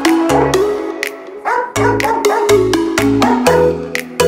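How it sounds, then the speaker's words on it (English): A dog barks and yips in a string of short, loud, repeated outbursts with whimpering tones, several bursts spaced roughly half a second apart, close by with no talking. "She's trying to bark out with somebody."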